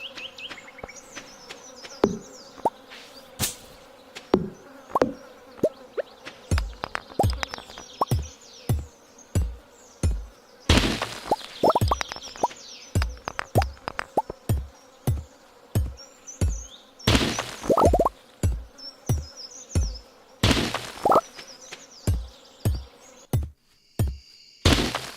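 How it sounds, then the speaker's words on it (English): Buzzing bees and bugs in modded Stardew Valley, a steady insect drone with repeated sharp clicks and pops layered over it, close and persistent throughout. "I don't know if it's bee sounds or bug sounds or whatever, those don't need to ever be back"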